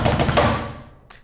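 A faster hammer blast beat on a drum kit in death-metal style, a rapid machine-gun burst of loud unison cymbal, snare and kick strikes lasting well under a second, then fading out with one faint late tap.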